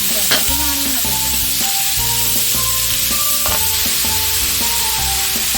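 Five chopped onions frying in a pan for catfish curry give a steady, close sizzle throughout, with tonal background sounds layered over the constant hiss.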